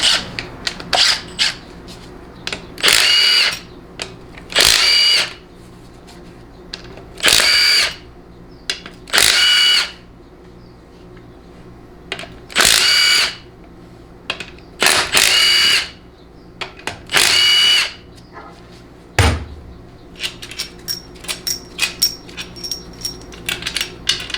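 A power tool drives out 13 mm pump case bolts on a 1995 4L60E transmission, whirring in about eight short, loud bursts with pauses between, followed by light clinks of handled parts.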